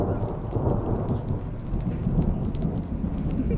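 Heavy rain pours steadily over the Bolivian countryside as a thunderstorm builds, with deep rumbling thunder rolling underneath the dense, continuous downpour, close and loud throughout.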